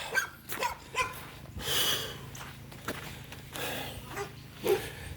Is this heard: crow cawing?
no